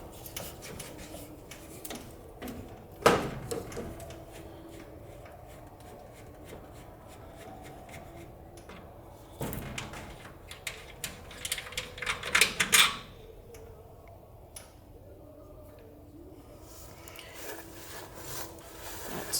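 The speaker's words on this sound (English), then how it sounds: "Now to take these out, I'm just gonna use pliers here." Pliers work hinge parts out of a workshop door in short bursts of metallic scraping and rubbing against wood, with quiet gaps between and no talking.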